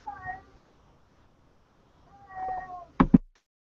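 A house cat meows twice, with a short mew at the start and a longer drawn-out one after a quiet gap, followed by two loud thumps nearby.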